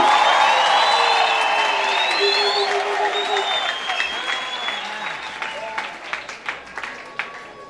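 A church congregation breaks into loud applause with cheers and whoops, the clapping thinning into scattered claps toward the end.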